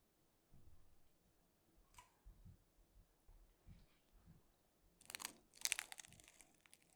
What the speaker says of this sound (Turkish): Çıtırtısını duyuyorsunuz.